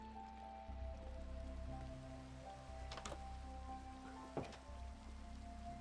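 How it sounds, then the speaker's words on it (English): Steady Minecraft rain patters in an even wash throughout, with a low game hum underneath and a couple of brief sharp clicks standing out, no voices. "Still raining."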